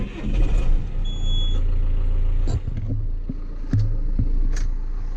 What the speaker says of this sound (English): Can I remember how to drive a John Deere?